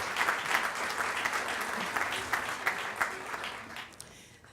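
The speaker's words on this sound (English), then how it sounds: "if we could maybe just give them another a round of applause as a congratulations" Audience applause for a group of freshman honorees at an award event, steady clapping of a modest crowd lasting several seconds before tapering off at the end.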